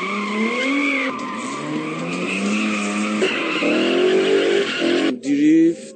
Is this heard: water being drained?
no